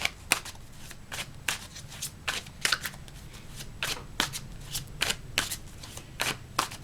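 Tarot cards are shuffled by hand in a steady series of crisp, close slapping and riffling bursts, repeating at a regular rhythm with no talk.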